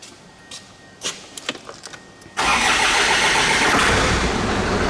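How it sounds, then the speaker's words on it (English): A Ford Ranger / Mazda BT-50 engine fires up after a few small clicks and taps, then settles into a loud, close, steady running roar that continues to the end. "then we go and try to start this car"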